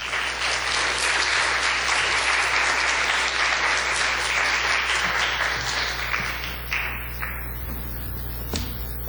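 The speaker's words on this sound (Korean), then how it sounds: "우리 뜨거운 박수로 환영했으면 좋겠습니다" A church congregation gives warm, dense applause welcoming guest pastor Jeong Jong-seong to the pulpit; the clapping is loud at first and gradually thins out and fades over about nine seconds.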